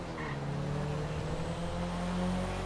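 Several cars race together in Grand Theft Auto Online, their engines droning in sustained layered tones with faint tire noise, steady and fairly close, with no talking.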